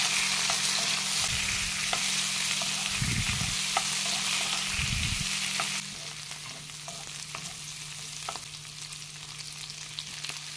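Shrimp and garlic sauté in a pan with a steady, close sizzle, broken by a few louder bursts of stirring early on, then settling into a slightly quieter, even fry.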